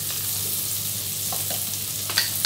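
Onions and garlic frying in melted butter while being stirred, a steady close sizzle with soft scraping strokes and a couple of light clinks near the end.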